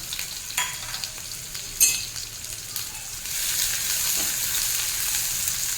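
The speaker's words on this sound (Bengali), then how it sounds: "পেঁয়াজ লঙ্কা ভালো মতো ভেজে নেব।" Sliced onion and four ripe red chillies fry in hot oil with a few sharp stirring clicks at first, then a steady, louder sizzle that swells and holds to the end.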